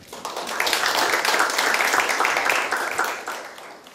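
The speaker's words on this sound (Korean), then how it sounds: "감사의 박수 부탁드리겠습니다." Applause at a Seoul city council forum, a full crowd clapping steadily at moderate volume, swelling briefly and then easing.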